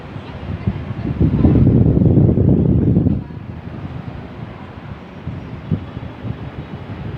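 Outdoor fan unit of a TCL inverter split-type aircon blowing air after cleaning, a loud broadband whoosh for the first few seconds that then drops to a softer steady airflow hum nearby.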